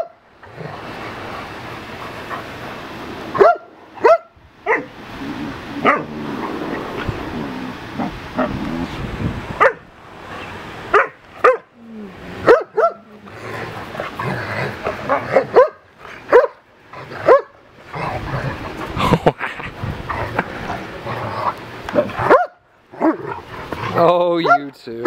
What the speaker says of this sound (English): What's that dog's problem, eh, Hoov?